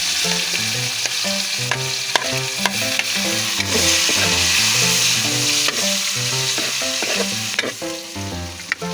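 Chopped onions fry and sizzle in a pan while being prepared for a Filipino mudfish afritada. A steady, loud hiss of frying runs throughout, with repeated clinks and scrapes of stirring and no talking.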